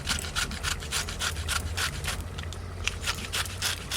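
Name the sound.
grating raw mango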